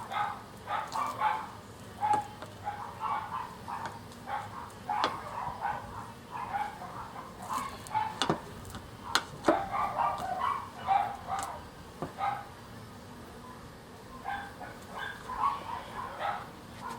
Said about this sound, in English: We have 4 dogs, can you tell?